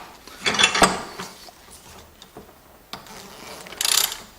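Ratchet wrench tightening a hydraulic brake valve on a bench, several close bursts of quick metallic clicking separated by short pauses, with a faint knock between them.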